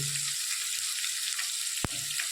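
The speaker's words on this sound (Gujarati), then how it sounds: "મસ્ત આપણે વઘારતો જઈએ, સાથે સાથે મસાલા પણ કરી દઈએ" Spices sizzling in hot oil for tempering a vegetable curry, a steady close frying hiss with one sharp clink midway.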